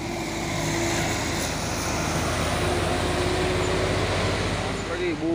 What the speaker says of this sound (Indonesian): Masuk lagi bus Chandra Adi Dharma Raya.